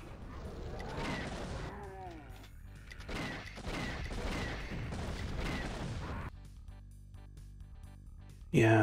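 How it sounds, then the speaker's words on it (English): Missiles exploding in Doom 2, a rapid series of bursting blasts and rumbling impacts of game combat, loud and dense, fading to quieter ambience after a few seconds. "those missiles are no joke"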